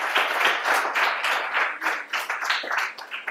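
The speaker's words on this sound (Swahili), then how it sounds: "Tupige makofi jaji wetu" An audience claps for a judge at a Swahili arts event at City Rose school, with dense, steady applause from many hands filling the space, loud and continuous throughout.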